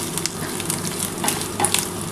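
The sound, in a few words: grated coconut frying in a pan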